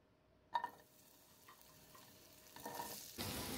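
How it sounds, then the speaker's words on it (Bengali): Sojne data drumsticks dropped into hot oil and stirred over a low flame, a sharp clatter followed by a rising, faint sizzle that grows louder toward the end. "লো ফ্লেমে নেড়েচেড়ে ফ্রাই করে নিচ্ছি"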